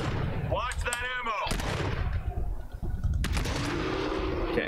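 Gunfire from the survival horror video game GTFO: loud, close bursts of rapid shots and blasts over steady game noise, with a short break in the middle before the firing resumes.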